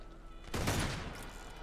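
Gunfire in the video game Uncharted 2, a sudden loud burst of shots that swells and then tails off into a lingering rumble, with no talk over it.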